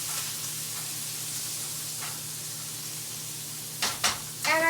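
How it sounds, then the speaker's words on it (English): Hamburger frying with onion and green pepper gives a steady, soft sizzle and hiss from the pan, followed by a few brief scraping, clattering sounds near the end. "So I have 1 hamburger, some onion, and some green pepper. So I want to fry that together."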